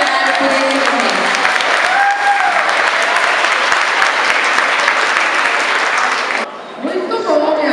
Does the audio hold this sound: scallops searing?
no